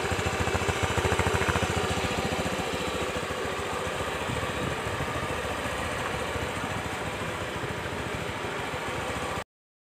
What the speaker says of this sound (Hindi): तो आप लोग इंजन का साउंड सुन लीजिए एक बार